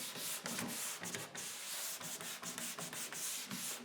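Steady hand sanding of drywall joint compound, a rough rhythmic scraping rubbed back and forth at close range, with brief pauses between strokes and no talking.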